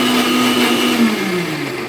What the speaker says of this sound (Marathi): सगळं मिक्सरमध्ये घेतलेलं आहे मी पिसते